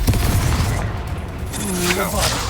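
Booming magical blast from the Expulso spell in Hogwarts Legacy, a dense roaring explosion that fills the clip with rumbling low energy and crackling debris, with a voice briefly sounding over it.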